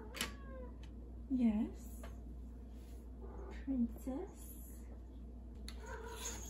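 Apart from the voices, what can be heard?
cat meowing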